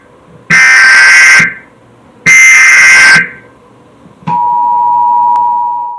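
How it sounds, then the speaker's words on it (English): Emergency Alert System test tone: two loud, harsh buzzing bursts of about a second each, separated by a short pause, then a steady, piercing single-pitch tone that holds for nearly two seconds before ending abruptly. "This is a test of the emergency alert system."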